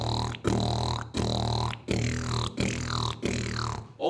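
A voice imitates a sound by vibrating the lips, buzzing through six short repeated bursts in an even rhythm, close and clear with brief pauses between.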